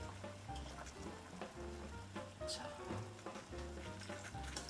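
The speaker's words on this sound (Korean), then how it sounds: "자, 이제 물이 다 끓는 것 같으니까 파스타 면을 넣어주도록 할게요." Pasta noodles slide into a pot of boiling salted water, giving a soft steady bubbling and sizzling hiss with light clinks, fairly quiet, while a voice speaks briefly at the start.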